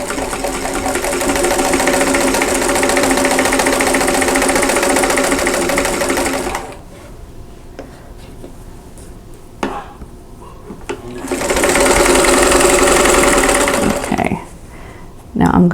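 A sewing machine stitches quilt fabric pieces for a quilt block, humming loud and steady for several seconds, pausing, then running again in a second long burst, with a voice speaking during the quiet gap.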